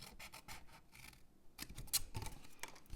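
Scissors snip through a paper corner while cutting out a treat holder for Ghirardelli squares, a few crisp close cuts with light paper rustling between them, no talking.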